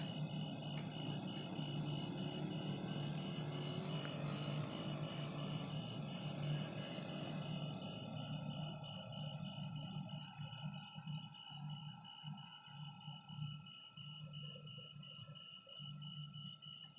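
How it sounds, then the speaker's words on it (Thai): Ice factory machines at night: a steady mechanical drone with high whining tones and a low hum, continuous and fairly distant, with faint rhythmic pulsing later on. "ไอเสียงโรงทำน้ำแข็งนะเนี่ยโรงงานทำน้ำแข็ง"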